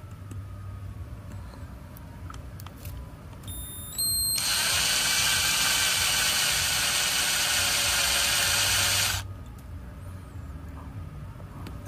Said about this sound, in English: Inspect it as you're drilling to make sure you're not going too far.